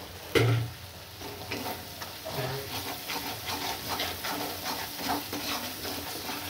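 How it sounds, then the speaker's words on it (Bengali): Spice masala for an egg curry sautéing in oil in a home kitchen pan, a steady soft sizzle broken by repeated scraping stirs close up, with a brief louder clatter near the start. "এবার মা ভালোভাবে কষিয়ে নিচ্ছে।"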